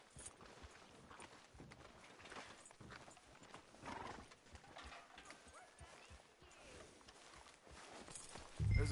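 Horse hooves clip-clopping at a steady walk in the Red Dead Redemption 2 video game, soft and even, with an occasional snort and a louder thump at the end.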